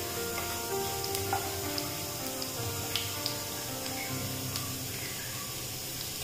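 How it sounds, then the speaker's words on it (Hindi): Whole spices sizzle steadily in hot oil while being stirred for Punjabi-style rajma masala, a continuous close frying hiss with faint scraping, no voices. "तब हम इसमें जो खड़े मसाले हैं ये ऐड कर देंगे और इसे अच्छे से चलाएंगे।"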